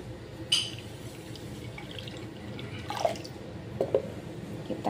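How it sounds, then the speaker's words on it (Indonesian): Water poured into a large bowl holding sugar, salt and vanilla powder while making chocolate mochi; a steady close trickle and pour with a few splashy drips, no talking. "Kita masukkan gula, kita masukkan garam sama vanili bubuknya, dan ini kita masukkan air."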